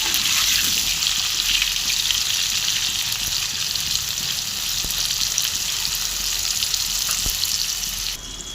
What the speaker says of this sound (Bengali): আলুটা আমার লাল লাল করে ভাজা হয়ে গেছে পুরো